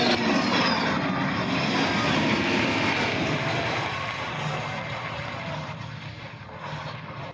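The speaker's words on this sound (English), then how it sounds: "here comes Major Johnson with the tactical pitch out" An A-10 jet flying a tactical pitch out at an air show, a loud broad engine roar that holds steady, then slowly fades as it moves away.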